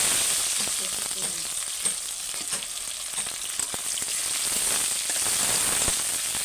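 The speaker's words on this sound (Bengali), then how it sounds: "দিয়ে পেঁয়াজটা আমি হালকা করে আগে ভেজে নিই" Onion fries in hot oil in a wok after a spice tempering of bay leaf and dried chilli, a loud, close, continuous sizzle with crackles and occasional stirring, with no talk.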